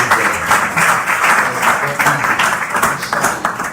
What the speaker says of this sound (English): please give yourself an applause